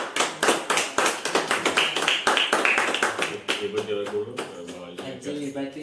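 A small group claps in quick, close rhythmic bursts at a family birthday celebration, with voices talking and calling out over the applause toward the end.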